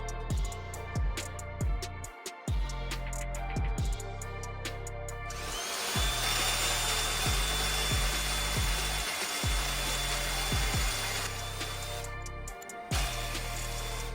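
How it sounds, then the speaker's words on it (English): A power tool cuts a metal bracket during a Honda CRX V8 swap in a garage: whining motor bursts start and stop repeatedly, with a long continuous grinding cut in the middle, close and fairly loud, no talking. "All right, let's cut it."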